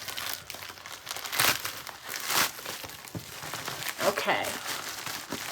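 A paper-packaged subscription parcel of vintage paper and ephemera being snipped open and unwrapped, with repeated crinkling and rustling of paper in close, uneven bursts and a brief spoken word.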